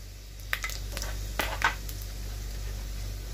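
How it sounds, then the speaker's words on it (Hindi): Garam masala frying in hot oil in a pan for chicken korma, a steady soft sizzle with a few sharp stirring clinks and scrapes over a low hum. "अब हम ये अके गरम मसाला डाल लेंगे तेल में, बस 1 मिनट के लिए फ्राई करेंगे।"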